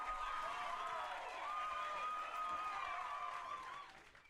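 Continuous crowd applause with clapping and some cheering, steady and fairly loud for about four seconds before tapering off at the end.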